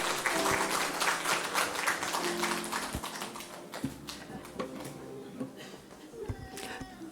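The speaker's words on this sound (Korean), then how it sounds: "크게 박수하고 축복하겠습니다." A Korean church congregation claps during a Sunday worship service, with loud, dense applause at first that thins into scattered individual claps and taps, while voices murmur under it.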